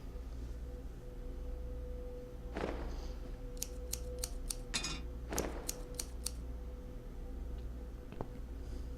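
Scissors cut a dress in a video game, two quick bursts of sharp clicks over a low steady hum, the cuts crisp and close, with no speech.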